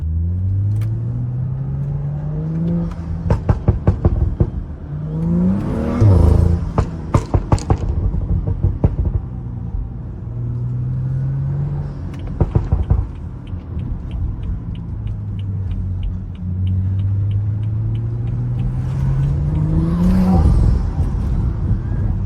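BMW F30 with a max-setting MHD tune, exhaust burbling and popping as the engine revs rise and fall, with sharp crackle bursts between steady interior drone.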